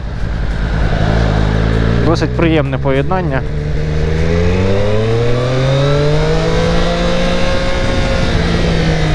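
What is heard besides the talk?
inline three-cylinder motorcycle engine revving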